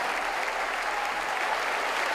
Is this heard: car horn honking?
no